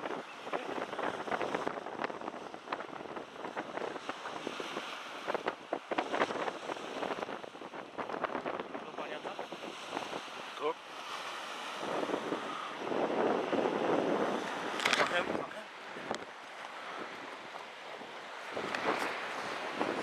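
Waves roll onto a beach as wind buffets the microphone, a continuous rough wash that swells and fades in uneven surges, fairly close and moderately loud, with no speech.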